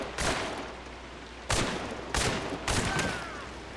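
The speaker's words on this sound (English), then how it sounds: "These conversion pistols are feeling a lot more accurate when dual wielding" Four sharp, separate shots from dual-wielded conversion pistols in the frontier-era shooter Hunt: Showdown, spaced unevenly about half a second to a second apart, each with a short echoing tail.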